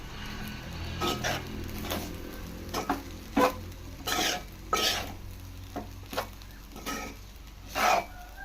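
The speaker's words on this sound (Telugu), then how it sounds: "ఇప్పుడు మిక్స్ చేసుకుందాం" Cooked rice is mixed with vangibath powder and brinjal in a vessel, a ladle scraping in repeated rhythmic strokes roughly every second, close and clear over a faint low hum.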